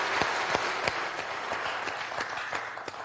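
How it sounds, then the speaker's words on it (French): Scattered clapping from a small group on the French TV quiz show Questions pour un champion, uneven claps over a broad noisy wash, fairly close and moderately loud. "Là, j'applaudis."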